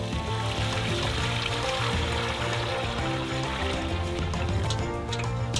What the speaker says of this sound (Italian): Ci versiamo un secchio d'acqua.